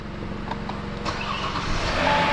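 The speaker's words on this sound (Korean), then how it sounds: "일단 첫 시동입니다. 한번 켜볼게요." A 2015 Kia K9 with the 3.8 engine cranks and fires up, a short rapid starter chatter building into a steady rising engine hum, heard close and alone.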